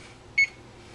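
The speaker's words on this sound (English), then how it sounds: "Time is up on the timer on that stove." A kitchen stove timer gives a single short, bright electronic beep, clear against a quiet room.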